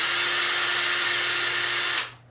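A power drill whirs in one steady, loud, high-pitched burst for about two seconds before spinning down and stopping.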